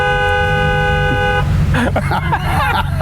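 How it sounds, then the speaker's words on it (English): A loud, sustained horn on an old BMW car blares for over a second, then cuts off, followed by engine rumble and muffled movement inside the vehicle. "sorry Alex, I may have plugged that horn back in."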